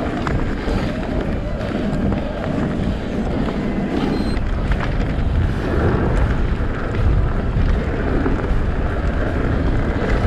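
Steady, loud wind buffeting the microphone during a ride on an Orbea Rise H15 electric mountain bike, a continuous broadband roar lasting throughout.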